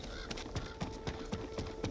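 Horse hooves in a video game clatter in a quick, steady galloping rhythm as the horse jumps, close and fairly loud over a faint background hum.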